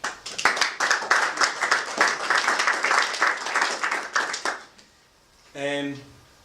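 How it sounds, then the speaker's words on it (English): An audience at a talk claps in a dense, steady round of applause lasting several seconds, then it stops abruptly and a short tonal sound follows. "I think you all deserve a big round of applause in that regard."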